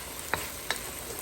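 Zucchini noodles fry on a stovetop, a low steady sizzle running throughout, broken by two sharp stirring scrapes close together.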